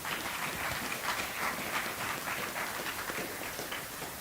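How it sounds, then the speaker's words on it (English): A conference crowd applauds a panel steadily for several seconds, a dense wash of clapping with no voices over it. "One more round of applause for them"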